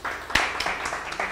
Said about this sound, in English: Hiya, the ones behind Kina Morris, we will clap for those ones.